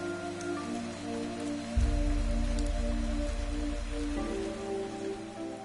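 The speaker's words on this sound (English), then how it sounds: "But even the rain soon began to weaken." Steady rain falls in the video game Fantasian Neo Dimension, a soft continuous patter layered under a sustained musical drone that swells partway through.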